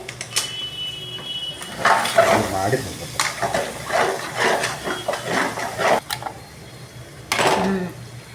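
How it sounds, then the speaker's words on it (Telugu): Masala and chicken frying in a pan for a yogurt chicken curry, an uneven sizzle with scraping stir strokes and clatter, close by, alongside people talking. "చూడండి మసాలా వేసి వేపుతున్నాడు"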